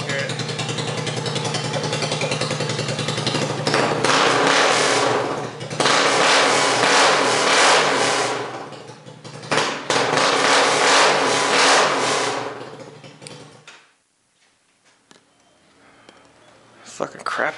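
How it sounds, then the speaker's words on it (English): Zongshen 250 motorcycle engine running with only a straight header pipe, loud and close, surging through repeated revs with a harsh raw exhaust roar before dropping off to near quiet and picking up again. "And I'll rev it up so you can hear it."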